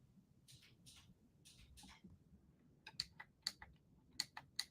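A push button on a 3D-printed Falcon 9 rocket model gives a few sharp, close clicks, with several fainter tapping sounds just before them in an otherwise quiet room.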